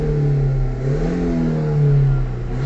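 A car engine revs up from idle as the driver presses the throttle, a loud, close, steady mid-pitched drone that swells and settles, rising again near the end, with no voices.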